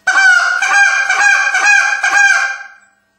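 A goose call blown through a sustained, high-pitched spit note: several quick honking pulses run together over about three seconds, loud and close, with no talking.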